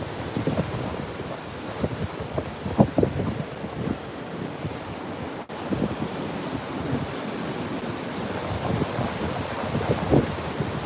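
Large storm-driven ocean waves, six to eight feet or more, break along the coast in a steady roar with surging peaks, while wind buffets the microphone throughout.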